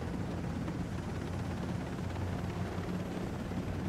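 Helicopter in Ghost Recon Breakpoint, a loud, continuous rotor roar and whine that stays steady and close throughout, with no one talking.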